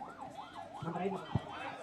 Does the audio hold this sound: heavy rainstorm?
no